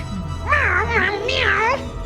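A cat meows in Vampire: The Masquerade - Bloodlines 2, two drawn-out rising and falling meows, close and loud over a low game background hum.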